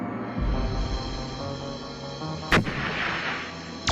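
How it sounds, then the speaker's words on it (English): Weapon fire from the original Star Trek episode "Arena", a dense booming barrage of artillery-like blasts with one sharp, loud explosive crack near the end, continuous and close with no talk. "rocket launchers."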